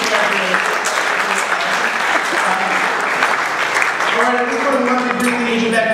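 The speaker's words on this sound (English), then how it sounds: "Give a round of applause for yourselves." Improv comedy audience at a college homecoming show applauding themselves, steady dense clapping filling the room for several seconds with some voices mixed in.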